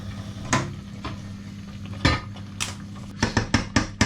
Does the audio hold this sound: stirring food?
yes